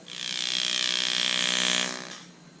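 A tattoo machine handpiece runs with a steady, close electric buzz for nearly two seconds, then fades out as the pedal is released.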